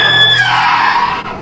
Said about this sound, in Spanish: solo se escucharon gritos llenos de terror